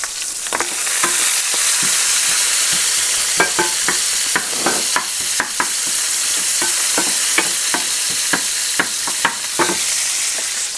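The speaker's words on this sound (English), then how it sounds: "I'm going to stir the bacon just one sec." Bacon sizzles loudly and constantly in a pan while a utensil scrapes and clacks against it in irregular strokes, close up and without talking.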